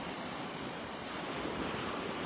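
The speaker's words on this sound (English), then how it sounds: "the waves are probably louder than they normally are" Ocean waves wash steadily onto a beach in North Naples, Florida, on a calm morning, a continuous dense roar of surf with some wind buffeting the microphone.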